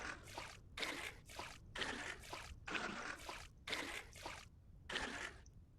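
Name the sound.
water being poured to fill a container, from the video game Vintage Story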